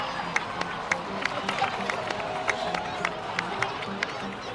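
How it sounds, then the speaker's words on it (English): Applause for the heroes at a celebration in the game Genshin Impact: steady crowd clapping and cheering with sharp individual claps popping out, a busy hubbub beneath. "please give another round of applause for them"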